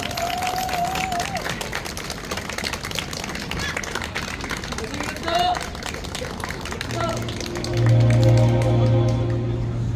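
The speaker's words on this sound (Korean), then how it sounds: "다시 한 번 큰 박수 부탁드리겠습니다" At a Monday evening concert, a crowd applauds with dense, steady clapping under an announcer's voice, before a low sustained musical tone enters near the end.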